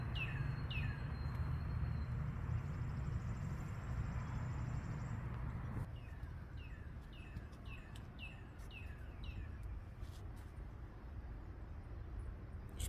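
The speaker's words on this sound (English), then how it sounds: "Just hear the sounds of the birds," Several birds chirping and tweeting in a garden with flowers, repeated short calls through faint background rumble of distant traffic, fairly quiet overall.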